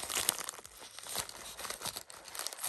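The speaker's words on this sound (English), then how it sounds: "So we are going to cut this open." Scissors slice through a paper mail envelope up close, a quiet rustling crinkle of paper and snipping that goes on steadily for a few seconds with no talking.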